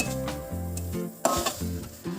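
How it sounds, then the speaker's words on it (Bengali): Onion frying in hot tempering oil for lentil dal, with an intermittent sizzle and repeated stirring scrapes in a pan, fairly quiet and close, no talking. "পেঁয়াজটা ফোড়নের সাথে একটু ভালো করে ভাজা ভাজা করে নেব।"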